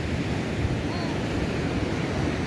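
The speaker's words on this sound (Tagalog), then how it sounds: "Ito yung alon ng dagat" Continuous roar of sea waves and surf at Aparri, where the Cagayan River meets the sea, mixed with heavy wind buffeting the microphone.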